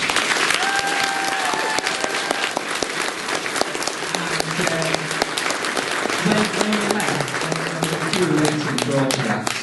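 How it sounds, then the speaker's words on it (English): Audience at a Geeks comic convention Q&A in Spalding applauds, dense sustained clapping from a roomful of people, loud and close, with a few voices and cheers mixed in. "Can you put your hands together, please?"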